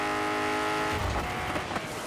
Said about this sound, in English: Oh, I just slammed on my brakes!